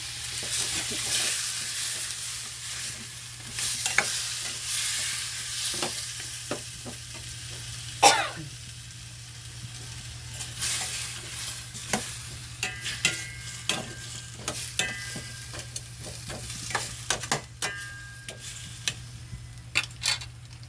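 Boiled ingredients go into a pan and get stirred, with a soft background sizzle under irregular scraping and clicking of a utensil against the pan, some louder knocks, and no talk.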